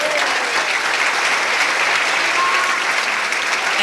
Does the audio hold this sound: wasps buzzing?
no